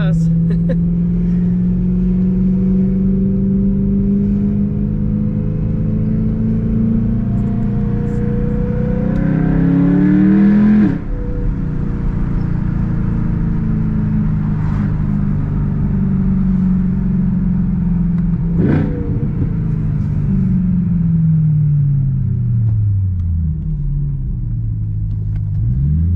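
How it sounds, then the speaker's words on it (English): BMW E92 M3 warming up: a loud, steady engine rumble that rises and falls in pitch with repeated revs and sharp throttle blips, close by and sustained throughout. "that's how you warm up your car, I guess."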